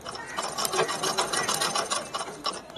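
A zigzag pico sewing machine stitches a saree fall with a rapid, steady mechanical chatter that runs continuously and close up, with no talking.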